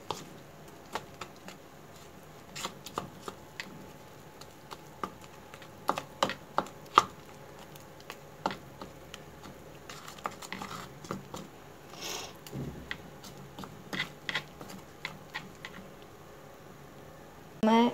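Hands mix potato pakora batter seasoned with garam masala and baking soda, producing irregular wet clicks and soft squelches up close, spread across a long, quiet stretch without speech.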